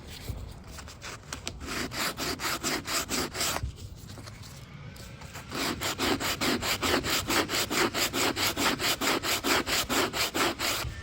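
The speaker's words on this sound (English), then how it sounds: "I just want to take a look and see what it's going to look like with a little bit of sandpaper" Rhythmic back-and-forth strokes of 80-grit sandpaper rasp across an antique wooden entry door coated in a gummy old finish. The strokes come in quick, even bursts, then stop briefly and resume at a brisker pace.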